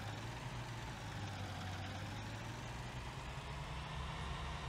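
A tractor engine idles in Farming Simulator 19, a steady low rumbling drone that holds even and unbroken throughout, with no voices over it.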